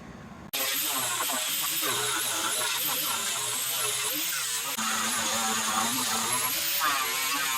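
A high-speed grinder or rotary tool preps the surface and bevels the cut edges of a 1967 Ford F100 short-bed truck frame, a loud steady whine with shifting pitch starting abruptly and running continuously to the end.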